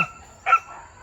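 A single short dog bark, fairly close, in an otherwise quiet moment.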